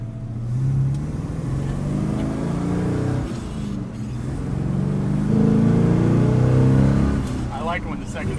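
A black 1957 Chevy with dual carburetors revs and accelerates on the road as the secondaries open, its engine roar swelling and holding loudly under in-car talk.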